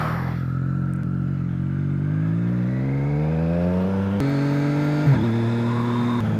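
A Triumph Street Triple fitted with a LeoVince LV One exhaust revs up close and loud, its pitch climbing steadily before a sharp shift and settling back, with no voices.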